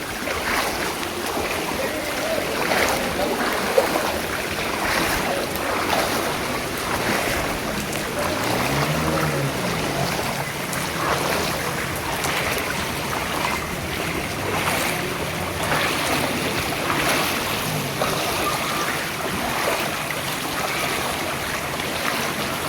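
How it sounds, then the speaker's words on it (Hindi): Rainwater floods a street in Sangam Vihar, Delhi, with a steady, dense rush of moving water and a broad hiss that continues without a break, loud and close. "यहाँ पे चला भी नहीं जा रहा, इतना पानी है।"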